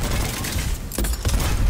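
A grenade in a shooter video game going off, a brief heavy boom amid continuous loud gunfire and game noise.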